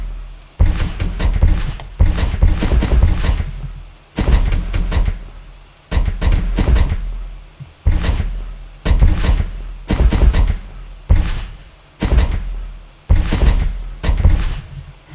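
A mortar firing projectiles in a Minecraft-style video game: a regular series of heavy, booming thuds about every second or two, each decaying quickly, loud and close, with no voices.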